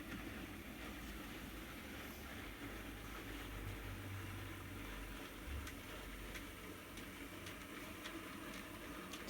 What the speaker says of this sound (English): and the train begins to move.